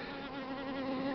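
Buckfast honey bees buzz at the hive in a steady, close, continuous hum with clear tonal layers, faint and unbroken, with no voices.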